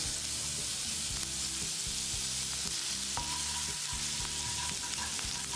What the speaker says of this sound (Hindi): जैसे ही बटर मेल्ट होने लगेगा इसमें हम 1 टीस्पून जीरा, 7 कटी हुई कड़े पत्ते,